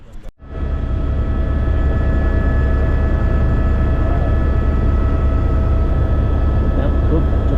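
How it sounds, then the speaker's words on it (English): A helicopter flight over New Zealand's South Island near Mount Cook and Fox Glacier gives a steady, loud engine and rotor drone from inside the cabin, continuous throughout after a short start. "we're about to take a helicopter flight"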